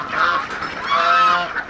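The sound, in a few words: flock of ducks and geese calling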